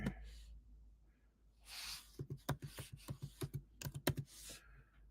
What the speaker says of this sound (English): I want to look up the term race grifter. And I'm going to type it in here.